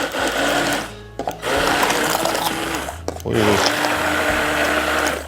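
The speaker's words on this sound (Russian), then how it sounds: "Все это дело взобьем блендером." A blender whips katyk yogurt with garlic in a loud, steady whir, stopping briefly twice before revving up again, with a short exclamation from a person.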